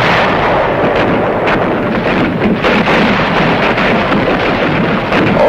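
Heavy artillery bombardment and airstrikes at Khe Sanh in Vietnam, a loud continuous rumbling roar of distant blasts with no talk.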